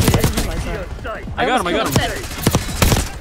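Gunshots in the video game Call of Duty Black Ops 6, sharp repeated cracks in quick bursts mixed with lively voices talking excitedly over the firefight.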